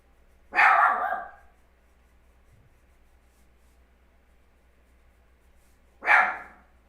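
A puppy gives two short, loud barks several seconds apart, with quiet room noise and a low steady hum in between.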